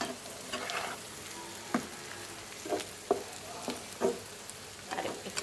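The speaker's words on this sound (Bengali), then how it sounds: "আমি পেঁয়াজটা একটু কম ভাজবো" Onions fry in a pan for an egg curry, a soft continuous sizzle punctuated by repeated scraping strokes of a spatula stirring them, close and fairly quiet.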